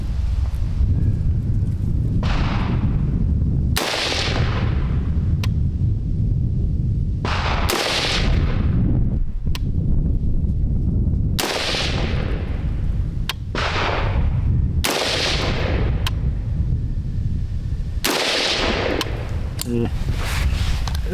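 A Grand Power R15M pistol fires in rapid sharp cracks, about ten loud shots spaced a second or two apart, each followed by a brief ring, with someone talking between the shots.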